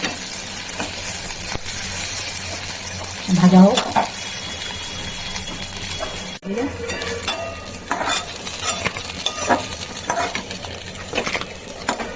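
Flat-bean pakoras sizzle in hot oil over a lowered gas flame while a utensil stirs and scrapes the pan, with a few metallic knocks; someone talks over the frying.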